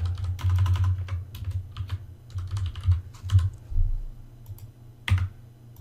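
Typing on a computer keyboard while working in Revit: close, crisp rapid clicks in several bursts separated by short pauses, with no talking.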